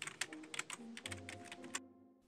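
Quick clicking keystrokes on a computer keyboard while a password is entered, a dense run of about a dozen close, light taps over two seconds, quiet and with no talking.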